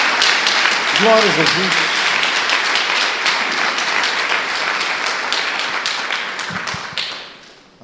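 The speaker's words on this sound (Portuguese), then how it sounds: "Dê uma salva de palmas a Jesus." Church congregation applauding during a sermon, brisk many-handed clapping that starts strong and gradually fades out, while a voice briefly speaks over it near the start.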